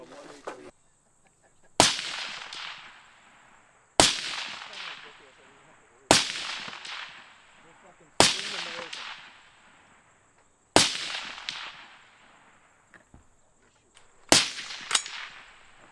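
Gunshots at an outdoor shooting range during a tactical training day: about seven sharp, loud reports spaced roughly two seconds apart, each with a ringing decay, the last two fired in quick succession.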